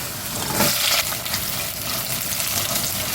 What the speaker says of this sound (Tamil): மிளகாவும் வெங்காயம் நல்லா வதங்கிடுச்சு வெங்காயம் பச்சை மிளகா வதங்கிடுச்சு